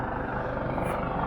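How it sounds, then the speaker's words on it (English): Helicopter rotor noise near North Head Lighthouse, a steady loud throbbing wash with a rhythmic low-frequency chop running unbroken throughout, with no other sound on top. "there's a helicopter here, so that's why you hear all the sound"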